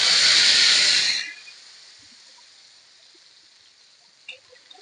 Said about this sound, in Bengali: এবার তেলের মধ্যে আমি একে একে বেগুনগুলোকে দিয়ে দেব।